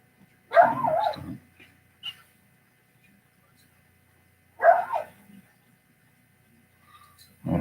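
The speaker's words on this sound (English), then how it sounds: "All that dog's gonna drive me nuts." A dog barks indoors in two separate short bursts a few seconds apart, each a quick cluster of barks and yips with a whimpering edge, near and fairly loud against otherwise quiet surroundings.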